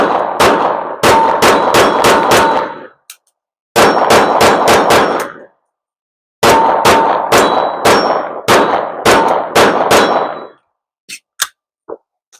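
Handgun shots from a SIG M17/P320 in a Brouwer frame, loud and close: three rapid strings of five to six sharp reports each, separated by pauses, followed by a few scattered fainter clicks and clanks.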